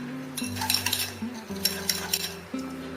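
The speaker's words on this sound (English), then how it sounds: "Now we are going to whisk this until it is light and fluffy." Butter and sugar being whisked for an eggless Black Forest cake: a quick run of light metallic clinks and scrapes against a bowl, close and steady, over a low sustained tone.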